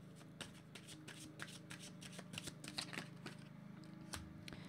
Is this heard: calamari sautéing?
no